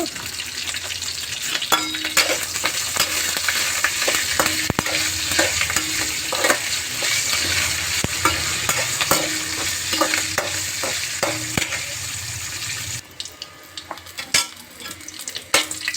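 Green chillies, cumin seeds and curry leaves fry in a pan for a chutney, a steady close sizzle with repeated scraping stirs and clinks of a utensil, easing off near the end.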